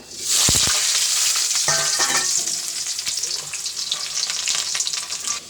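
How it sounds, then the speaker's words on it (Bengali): Potato hits hot oil tempered with cumin seeds and bay leaf, setting off a loud, dense sizzle that holds steady for several seconds, with a few stirring scrapes near the start. "জিরা তেজপাতা সম্বার দিছি, আলুটা দিয়ে নেবো তেলে।"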